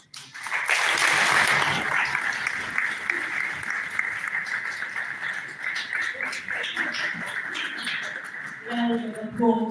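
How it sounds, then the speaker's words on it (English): Audience applause for an education event's chief guest, a loud burst of clapping that swells quickly and continues steadily through the clip, with some voices and chatter mixed in toward the end. "Round of applause to our chief guest"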